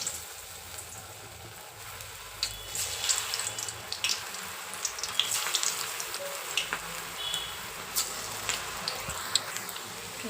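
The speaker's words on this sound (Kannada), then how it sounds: "ಅದು ಹಾಕಿದ ಮೇಲೆ ಗೋಲ್ಡನ್ ಬ್ರೌನ್ ಬರೋವರೆಗೂ ಫ್ರೈ ಮಾಡ್ಕೊಳ್ಳಿ." Menthya pakoda (fenugreek fritters) deep frying in a pan of hot oil, a steady crackling sizzle with scattered pops and bubbling throughout, fairly quiet and close with no voices.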